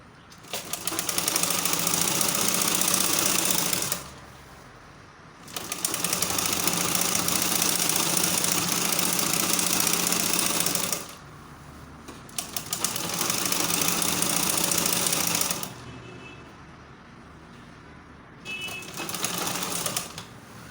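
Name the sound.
sewing machine running stitches for gathering gown fabric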